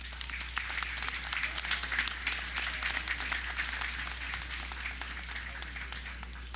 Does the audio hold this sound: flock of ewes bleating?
no